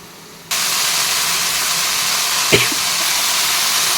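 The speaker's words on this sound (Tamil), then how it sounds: "பாருங்கள் ஃப்ரெண்ட்ஸ் கீரையை போட்டாச்சு நம்ம இப்போ வந்து இதை பிரட்டிக்கலாம்" Greens hit a hot pan of browned onions for an Odisha-style greens stir-fry, and a loud, steady sizzling hiss bursts in and holds, with one brief utensil clack partway through and no talking.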